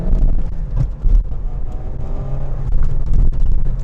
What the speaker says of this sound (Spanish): dejamos cargar un poco al turbo, le aceleramos a fondo